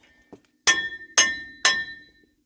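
A hammer strikes the hub of a Ford Powerstroke 6.0 truck three times in a steady rhythm, each hit a sharp, bright metallic clang with a ringing tail, close and loud, after a faint tap.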